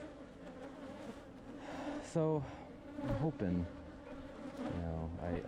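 Honeybees hum in a steady, dense buzz around backyard hives, with robber bees among them and a few louder passes close by, while someone talks over the swarm.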